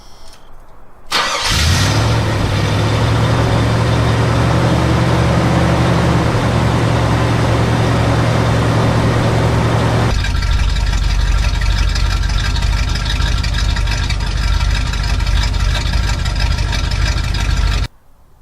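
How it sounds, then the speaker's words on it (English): A truck fitted with a high-performance dual exhaust cranks and fires up, then settles into a loud, steady, throaty idle close by that shifts in tone partway through before cutting off at the end. "I put a high performance dual exhaust on a truck, and it is fairly noisy."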